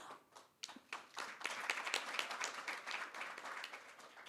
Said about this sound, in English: Yes, that called for an applause, and thank you for the spontaneous one.